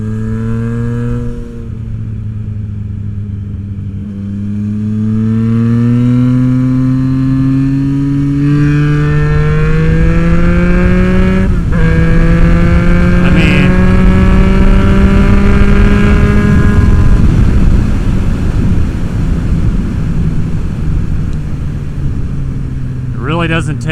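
A Yamaha FJ-09 motorcycle with a Black Widow exhaust revs loud and close, its engine note climbing in stepped pulls before easing back toward idle.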